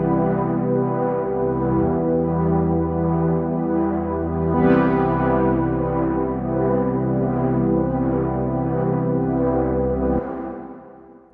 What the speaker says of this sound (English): with a reverb to make a really interesting moving ambient pad.